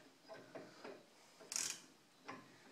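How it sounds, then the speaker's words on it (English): A torque wrench tightens a truck bearing, giving a few faint, separate ratcheting clicks spaced irregularly in a quiet setting, one sharper click standing out midway. "I'm torquing down this bearing by spec."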